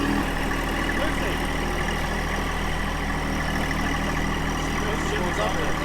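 A John Deere 2025R compact tractor engine idles steadily and close, a continuous low rumble with no change in pitch throughout.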